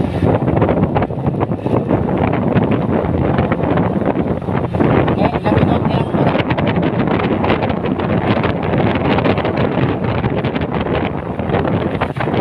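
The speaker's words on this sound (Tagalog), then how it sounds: "Sarap ng hangin." Strong wind roars steadily across the microphone during a trip to Sandoval, Taytay, Palawan, a loud unbroken rushing buffet lasting the whole time.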